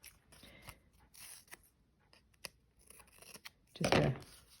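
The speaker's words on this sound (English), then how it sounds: "I have an old pair of scissors" An old pair of scissors trims the edge of quilt fabric: faint, scattered snips and rustling close by, ending in a louder, rougher cut near the end.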